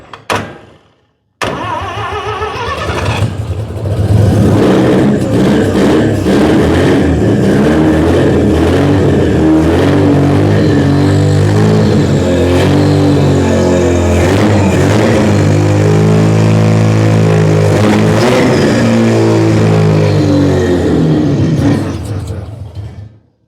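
A car engine cranks, catches, then runs loud and uneven, revving rather than settling into an idle, for about twenty seconds before cutting off; the starter is faulty.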